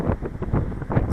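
Outdoor wind buffets the microphone on an XK Detect X380 quadcopter flight test, a loud, continuous low rumble with uneven gusting pulses throughout the short stretch, and no voice heard.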